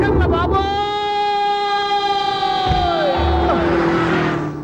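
A siren wails in a Telugu comedy film scene, a loud, sustained tone that bends downward near the end, over a busy background of crowd and street noise.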